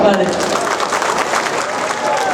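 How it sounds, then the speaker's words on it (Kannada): Audience applause for actor Shashikumar breaks out as a dense, continuous patter of clapping that fills the room from start to finish, with crowd noise mixed in. "ಶಶಿ ಸರ್ಗೋಸ್ಕರ ಒಂದು ಜೋರ್ ಚಪ್ಪಾಳೆ."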